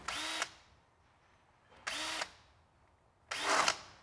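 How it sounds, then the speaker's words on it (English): A power drill chamfers pre-drilled holes in the gel coat of a boat hull. Three short, loud, close whining bursts come with quiet pauses between them, and the last burst is rougher and longer. "we're going to chamfer the holes slightly"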